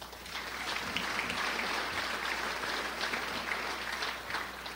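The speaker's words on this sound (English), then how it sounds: "Round of applause." Audience applause breaks out at the Crown Point State of the City 2019 event, a steady wash of many hands clapping at moderate loudness for several seconds before tapering slightly.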